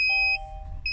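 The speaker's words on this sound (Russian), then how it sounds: "Не обращаем внимания на пики сигналки" A 2021 Russian-assembled Kia Mohave's alarm system gives two short, clear electronic beeps, close and loud, about half a second apart, over the low rumble of the idling engine.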